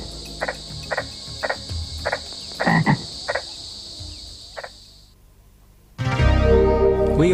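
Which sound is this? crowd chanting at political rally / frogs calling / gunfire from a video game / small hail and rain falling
frogs calling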